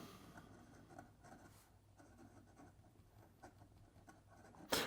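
Penlux Masterpiece Grande fountain pen with a medium nib written upside down on paper, giving soft, steady scratchy strokes close up at low volume, with no voices.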